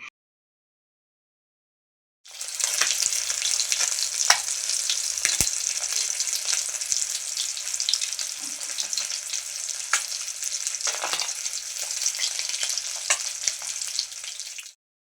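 Fish sizzling steadily in hot oil in a home kitchen, a loud continuous crackle with scattered sharper pops and occasional stirring clatter, running alone after a brief silence.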